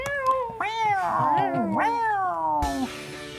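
A cat meows in a long, wavering call that rises and bends in pitch, with a short second yowl near the end, close and clear.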